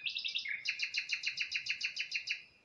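Birdsong rings out close and clear, a rapid run of bright repeated chirps in an even rhythm that shifts pitch partway through and trails off at the end.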